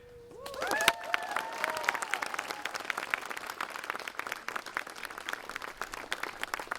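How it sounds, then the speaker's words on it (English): An audience applauds a marching band after its demonstration, a dense, steady burst of clapping that begins abruptly and carries on throughout, with a brief rising whistle-like tone near the start. "Ladies and gentlemen, let's hear it for the band."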